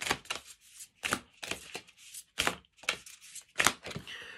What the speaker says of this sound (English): Giving these a deep shuffle.